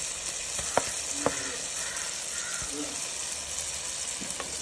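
Onion and garlic paste frying in a pan for chicken biryani, a steady close sizzle with a few sharp stirring clinks and scrapes, no talk.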